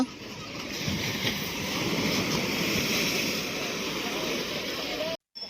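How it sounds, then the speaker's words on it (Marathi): Sea waves wash continuously onto a shore in a broad, steady roar at moderate distance, with a brief cutout near the end. "आता ना लाटांचा आवाज आहे लाटांचा आवाज"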